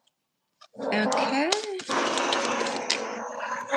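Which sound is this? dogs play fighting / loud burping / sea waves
dogs play fighting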